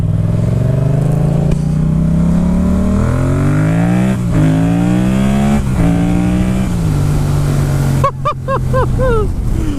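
Yamaha FZ-07 motorcycle with a new air filter and flashed ECU revving hard, its loud engine note climbing through several gears over about ten seconds, then sharp blipping revs near the end.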